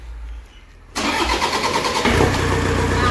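A Toyota Innova engine, just overhauled after a seized piston, cranks briefly and then catches, settling into a steady, loud idle that holds close by without any voices.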